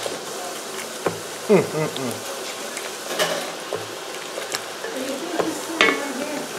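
Onions cooking down on an induction hot plate for burgers, a steady sizzle with scattered stirring scrapes and clicks, close and moderately loud, with a few brief vocal sounds over it.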